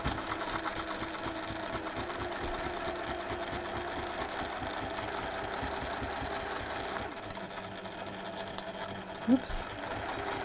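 A sewing machine stitches through pinned fabrics with a steady, rapid mechanical whirr close by. It runs continuously, then eases off slightly near the end with a brief sharper knock.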